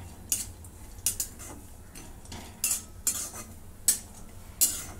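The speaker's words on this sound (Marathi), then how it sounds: "थोडंसं तेल टाकून घेते. खोबरं चांगलं लालसर रंगावरती तळून घेते." Coconut being fried in oil in a pan for a village-style egg curry, with a spoon scraping and clinking against the metal pan every second or so over a faint, low sizzle.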